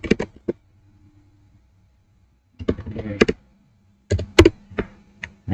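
Keys clatter on a computer keyboard as a website address is typed, close and fairly loud, in three separate bursts of rapid tapping with quiet pauses between them.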